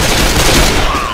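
Gunfire in the Left 4 Dead 2 video game: a dense, continuous burst of loud shots over about a second, close and sustained without a break.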